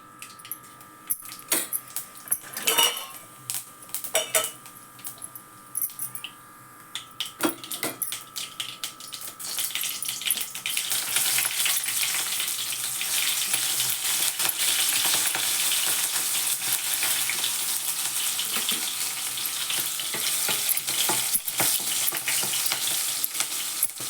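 Cumin and mustard seeds hit hot oil for a cabbage dish, starting with scattered pops and clinks, then swelling into a loud, continuous close-up sizzle that holds to the end.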